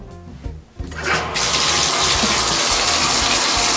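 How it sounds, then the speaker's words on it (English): Bath water gushes from a tap into a tub, starting with a few bumps and splashes, then swelling into a loud, steady, close rush of running water with no talk. "All right, Jeffy, I started your bath, but I didn't turn off the water."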